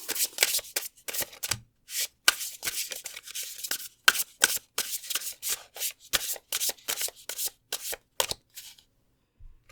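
Tarot cards handled and drawn from a deck for a pick-a-card reading, a close, crisp run of slapping, riffling card sounds in quick irregular bursts with brief silent gaps, no talking.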